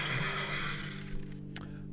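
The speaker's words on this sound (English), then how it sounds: "Whenever they said this one woman's name, Frau Blücher, the horses would neigh." A horse neighs loudly and close, a bright whinny that trails off, followed by a short high snort near the end, with no talk.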